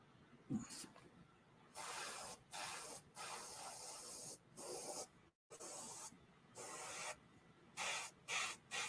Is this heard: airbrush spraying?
yes